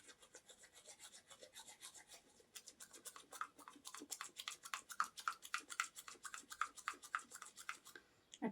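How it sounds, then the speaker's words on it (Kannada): Teeth are brushed with a toothbrush for whitening: steady, close back-and-forth scrubbing strokes that grow firmer and more rhythmic as they go on, with no talking. "ಅಟ್ಲೀಸ್ಟ್ ಒಂದು 3 ಮಿನಿಟ್ಸ್ ಆದರೂ ಈ ಥರ ಬ್ರಷ್ ಮಾಡಬೇಕಾಗುತ್ತೆ."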